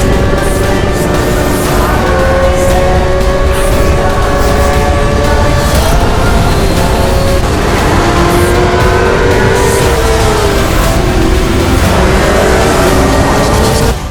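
A 2024 Kawasaki Ninja ZX-6R inline-four middleweight motorcycle engine revs hard and continuously, its rising and falling harmonic whine loud and close throughout, with pitch sweeps as the throttle is worked.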